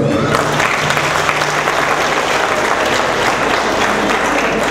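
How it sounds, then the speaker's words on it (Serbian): Loud, dense applause from a concert audience at a folk ensemble concert in Klenje, saluting the members of the folk orchestra. The clapping is continuous and close, with a faint low hum beneath and no talking. "Molim vas jedan aplauz za članove orkestra."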